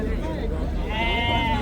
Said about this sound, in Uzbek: Mana bu yerda har doimgidek echkilar, sutli echkilar bozorni oldida bo'ladi.